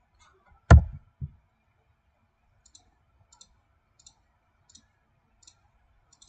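A computer mouse gives one loud, sharp click and a softer second click, then a string of faint, evenly spaced ticks, in an otherwise quiet room.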